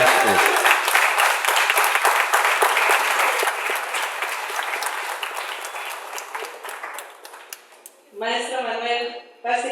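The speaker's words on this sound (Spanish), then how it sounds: "Aplausos." An audience at a university talk in Papantla bursts into loud applause that gradually thins and fades, then a voice starts speaking near the end.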